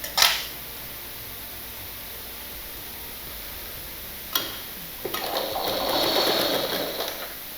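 A sewing machine stitching a seam on a blouse, preceded by a couple of sharp clicks, then a soft, steady mechanical whir building near the end, faint against a hissy room background.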